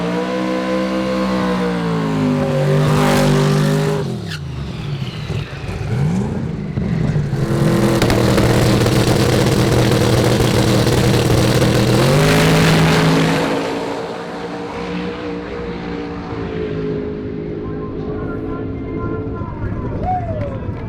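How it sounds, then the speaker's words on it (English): Drag race car at a drag week event doing a burnout, its engine roaring loud and sustained with rising and falling revs over about twenty seconds before easing to a lower idle. "I can tell from the burnout"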